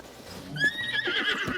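A horse neighs and whinnies in Breath of the Wild, a rising, warbling call that swells mid-clip over a faint clip-clop of hooves, close and fairly loud with no talk.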